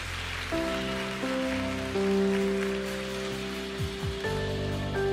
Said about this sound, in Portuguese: Pode aplaudir se é para Jesus.